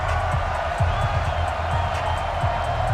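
Stadium crowd noise in an NFL video game before a Denver Broncos versus Oakland Raiders matchup, a steady broad roar of cheering that holds at an even level throughout, with low thumping pulses beneath it.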